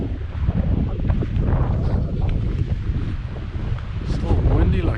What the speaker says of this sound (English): Still windy like a motherfucker.